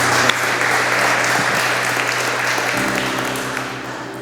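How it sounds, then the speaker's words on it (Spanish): A church congregation applauds during a Spanish-language service, a dense, steady wash of many hands clapping together, fairly loud and close throughout. "Denle un aplauso al Señor"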